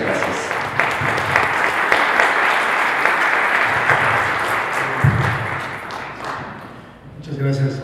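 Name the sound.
audience applause welcoming a lecturer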